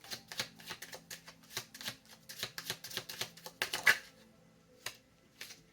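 Tarot cards being handled and shuffled in a deck, a quick run of crisp, close snapping riffles and taps that slows and fades into a few separate clicks.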